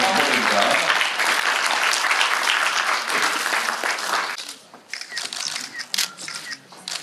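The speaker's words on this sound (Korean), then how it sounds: "큰 박수" Audience applause at a women's award ceremony, a dense, loud burst of many hands clapping that thins out into scattered claps near the end, with a voice faintly underneath.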